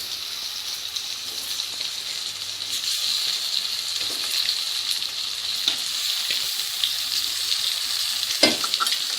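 Stuffed brinjal sizzles steadily in hot oil with fried onions, a continuous close frying hiss broken by occasional scraping stirs, with no voices.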